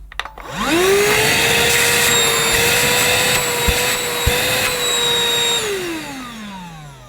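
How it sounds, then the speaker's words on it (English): A Shark cordless handheld vacuum cleaner, pet model, spins up and runs with a steady whining motor tone for several seconds, then winds down as it is switched off. "I'm just going to measure the suction power of this Shark using a very unscientific method."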